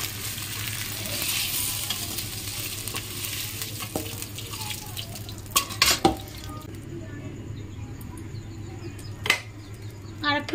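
Potatoes fry in oil in a pan, a steady low sizzle with a few sharp metallic clinks of a utensil against the pan, moderately close, with no talking.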